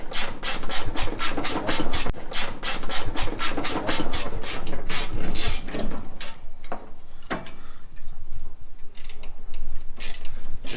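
Rapid rasping and ratcheting metal-cutting strokes on a bolt of a 1934 Plymouth chassis, steady and close for about six seconds, then slower intermittent scrapes and clanks.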